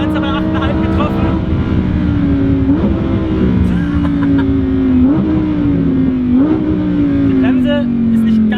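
A Lamborghini Huracan Evo's engine, heard while driving, climbs steadily in pitch through the gears, dropping briefly at each of several upshifts; loud and continuous, with a voice speaking over it.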